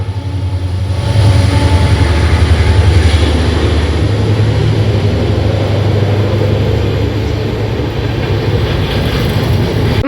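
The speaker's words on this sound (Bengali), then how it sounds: "কারণ ট্রেন আসছে" A train passes nearby with a loud, sustained low rumble and roar that builds over the first seconds and then holds steady throughout, with no voices over it.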